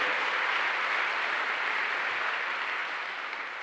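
A congregation applauding during a church sermon, a steady, dense wash of clapping that holds evenly for several seconds and fades a little toward the end, with no talking over it.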